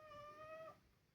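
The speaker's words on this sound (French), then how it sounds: "Ça, c'est mon chat, voilà, qui exprime son amour." A pet cat gives a single drawn-out meow lasting well under a second, close and clear over a low background hum that continues after the call fades.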